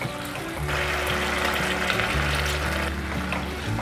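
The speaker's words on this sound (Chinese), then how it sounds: "加点水，把调味料炒匀。" Tomato sauce and seasoning being stir-fried in a pan with water just added, for a vegan dish of potato and tomato mock shrimp, heard as a steady close sizzle and bubbling hiss that holds for several seconds, alone without speech.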